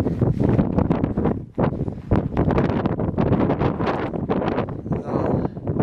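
Strong wind buffets the microphone at the ninth station on Mt Fuji, loud, gusty, continuous rumbling that fills the whole stretch.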